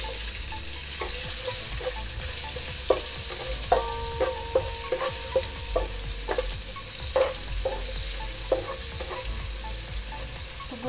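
Chopped onions sauté in melted fat in a pan, with a constant loud sizzle and frequent clicking, scraping stirs of a utensil at an uneven pace; no talking.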